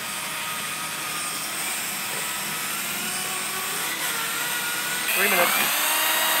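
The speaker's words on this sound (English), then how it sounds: "Go ahead and grab the other drills." Several power drills mixing TotalBoat 2-to-1 high performance epoxy give a steady, loud mechanical whine that runs throughout, with a harsher burst near the end.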